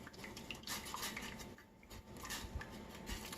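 A spoon stirs mustard into a thick vegan bechamel sauce in a pot, making faint, repeated scraping and soft clinking against the metal, quiet and close.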